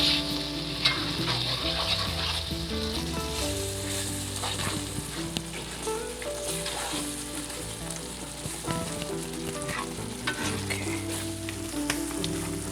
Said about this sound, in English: I'm going to let this cook on low or medium low for about 2 minutes to let that alcohol cook out.